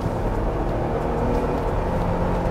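A 2021 Ford Bronco engine with 563 Nm of torque drones under the throttle, a steady, full, low-pitched rumble that holds even throughout without a clear rise.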